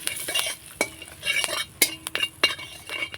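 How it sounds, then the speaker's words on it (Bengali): A spice tempering with red chili and turmeric powder frying in a pan, a close sizzle with repeated sharp clinks and scrapes of a spoon stirring against the metal, no voices. "একটুখানি নাড়াচাড়া করে ফোড়নটা ভেজে নেব।"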